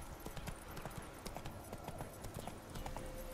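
Horse hooves clip-clopping during riding in The Witcher 3 game, a quick steady run of faint hoof beats over game ambience lasting a few seconds.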